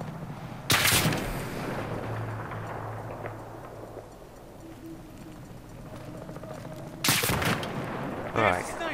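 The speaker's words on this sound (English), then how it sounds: "Now he's just shooting everywhere." Sniper gunfire in the Battlefield 3 mission Operation Swordbreaker, two sharp loud cracks several seconds apart with a further burst near the end, over battlefield ambience and some talk.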